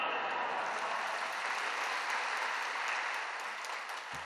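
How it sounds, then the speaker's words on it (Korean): A church congregation welcomes Pastor Ahn Seong-ju with a sustained, fairly soft wash of applause, a hall full of hands clapping evenly before tapering off at the end. "나오실 때 할렐루야로 하나님께 영광 돌리고 박수로 맞이하겠습니다."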